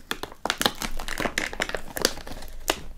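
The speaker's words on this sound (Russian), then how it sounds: "Полиэтиленовый пакет." A polyethylene bag from a Russian military ration pack crinkles in close, irregular bursts of rustling, with sharp crackles coming and going at a steady pace.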